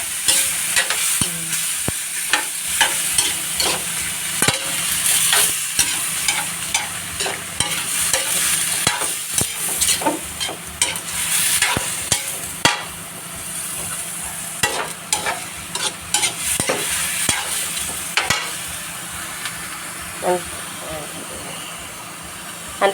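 Giant squid sizzles and fries in a pan for caldereta alongside carrots and potatoes, with steady hissing and clattering stirring under intermittent talk.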